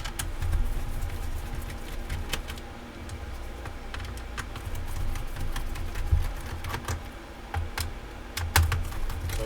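Small screws are removed from a Dell Inspiron 3452 laptop, giving quick light clicks and ticks in uneven clusters, close and fairly quiet, over a faint low hum.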